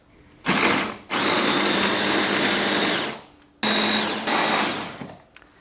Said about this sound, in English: Please may pass me the blender